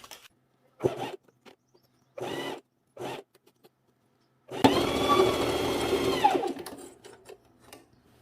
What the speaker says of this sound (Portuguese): Passar uma costura reta de segurança e depois vir com um ponto elástico para reforçar.